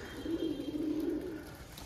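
Wild pigeons on a rooftop coo in a low, steady, throaty murmur that carries on without a break, close by and moderately loud.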